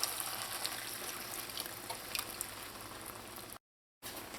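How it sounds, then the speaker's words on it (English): Extra water poured into a pot of rice and pigtails for Trini pelau with coconut milk, a continuous hissing splash that runs for several seconds before a brief gap, with no voices. "I'm just adding in a little extra water to help cover everything"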